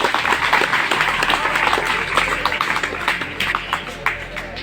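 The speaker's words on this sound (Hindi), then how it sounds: "अपने लिए जोरदार तालियां बजाइए।" Students in a school classroom applaud themselves, a dense wash of many hands clapping that holds steady throughout, with some voices mixed in underneath.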